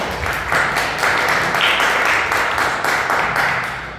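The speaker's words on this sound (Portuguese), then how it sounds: "Quero que você aplauda a palavra do Senhor." A church congregation applauds during a sermon, many hands clapping together in a steady, loud wash that runs throughout with slight rhythmic swells.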